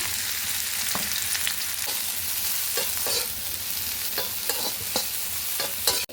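Brinjal fries in a little oil in a pan for chutney, a steady close sizzle punctuated by repeated scraping strokes as it is stirred, with a clatter at the very end.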